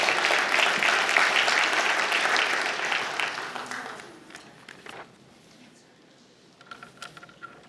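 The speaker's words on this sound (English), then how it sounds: "All right, one more round of applause." Audience applause at a city State of the City address in Hermosa Beach swells loudly at first, then fades over several seconds into scattered claps and quiet room noise.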